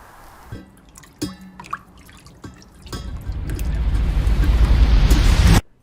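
Animation water effects: a few separate drips and splashes in the first seconds, then a swelling pour or rush of water that builds steadily louder before cutting off abruptly.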